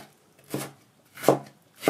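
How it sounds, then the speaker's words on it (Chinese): A knife dices a peeled tomato on a cutting board, three crisp separate chops spaced evenly, close and clear with no talk. "最后把番茄给它切成丁"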